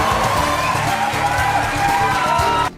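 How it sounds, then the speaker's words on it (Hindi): A crowd roars, whoops and whistles to greet Shah Rukh Khan, a dense, steady wall of cheering that holds at full volume for the whole stretch, with a rhythmic low thumping underneath, before cutting off abruptly at the end. "लोग खड़े हुए, सीटियां बजाई, तालियां बजाई और शाहरुख खान का अभिवादन किया"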